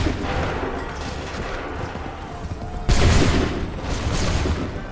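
A musket volley erupts in the Assassin's Creed III video game, a sudden loud crackling fusillade of many guns firing together that rolls on with scattered shots after a stretch of quieter battlefield ambience.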